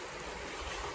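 Sea waves along the Caspian shore near Aktau, over turquoise water and a shell-covered bottom, make a steady, close broadband wash of surf with wind noise throughout and no voices.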